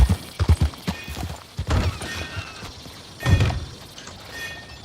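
Horse hooves clop on the ground in Red Dead Redemption 2, a quick run of sharp steps at the start and then scattered heavier thuds, fairly close.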